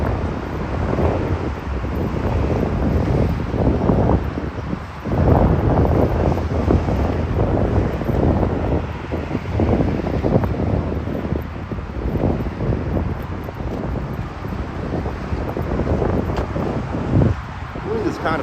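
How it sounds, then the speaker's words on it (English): Strong wind buffeting a microphone outdoors in Oshawa, a loud continuous low rumble with gusty surges throughout, near and constant, with faint talk beneath. "Wind is kind of aggressive, but not over the top here."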